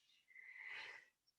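A single sneeze-like burst of breath rises and fades over about a second during a quiet breathing exercise, fairly close and alone with no talk over it.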